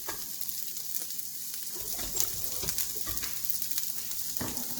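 Onions and ground beef sizzle and fry steadily in a pot for dirty rice, a soft continuous crackle with occasional stirring clatter, no talking.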